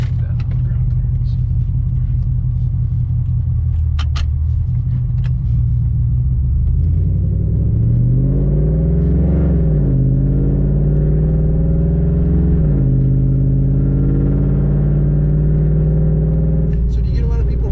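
A Coyote V8-swapped truck pulls away from a standstill, its low engine rumble climbing in pitch through a long rise and then holding steady, loud and close, with speech over parts of it.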